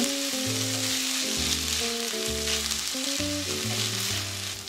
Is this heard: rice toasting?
yes